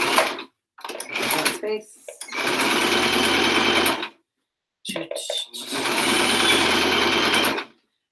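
A sewing machine stitches the last side seam of a bag made from an old t-shirt, running in two long loud bursts after short stop-start runs, close up, with a brief spoken word between.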